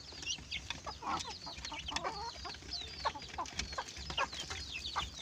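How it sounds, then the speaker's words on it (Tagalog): Chickens and chicks on a backyard poultry farm, busy overlapping high peeping and soft clucking close by, continuous over low background noise. "Pupuntahan natin yung sisiw ngayon."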